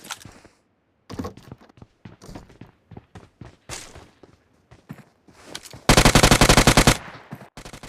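Gunfire rattles through a shooter video game, with scattered single shots and short bursts giving way to a loud, sustained automatic burst near the end, all close and dry.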